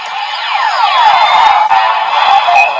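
A DX Breakam Breaker Kamen Rider toy plays a bright electronic sound effect with sweeping, descending tones and chiming layers, loud and close for a few seconds with no talking.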